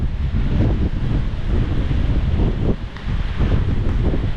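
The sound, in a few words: hurricane wind blowing and rain, Hurricane Ian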